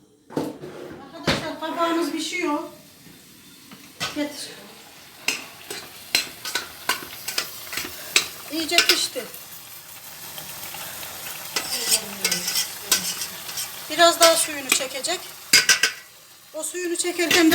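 Onions sizzle steadily as they fry in a pan, utensils stirring and clattering against metal, with a person talking intermittently nearby.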